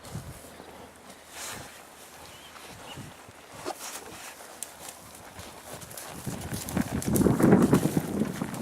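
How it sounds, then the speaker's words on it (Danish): A horse stepping backwards on a farm, its hooves giving irregular clip-clop thuds that grow louder and busier toward the end over faint background noise. "Det er fordi hesten den gerne vil gå tilbage."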